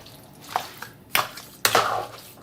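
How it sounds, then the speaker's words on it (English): A spoon stirs Javanese stewed chicken ingredients in a metal pot, producing a few sharp scraping clinks and knocks separated by short pauses, close and fairly quiet. "we're simply going to give all of this a good stir, a good mix"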